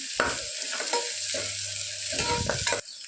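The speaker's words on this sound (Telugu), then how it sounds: "కూర కూడా పచ్చి వాసన పోయేంత వరకు ఫ్రై చేసుకోవాలి ఒక టూ మినిట్స్ ఫ్రై చేస్తే సరిపోతుంది" Curry sizzles in a pressure cooker pan as it is stirred, several close scraping strokes over a continuous frying hiss.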